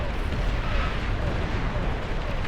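A video game nuclear explosion roars as a dense, sustained rumble, loud and continuous without a distinct single blast, filling the whole moment.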